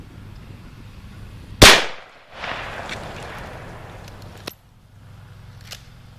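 A single sharp, loud report from a Marlin 336 lever-action rifle fired outdoors at targets about 30 feet away, followed by a short rattling clatter and a faint metallic clink.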